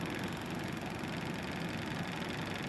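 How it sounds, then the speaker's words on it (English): A spinning Bedini North Pole motor with a bearing beginning to rattle gives a dense, continuous whirring buzz with a fast rough chatter, close and steady throughout. "You can hear the bearing starting to rattle."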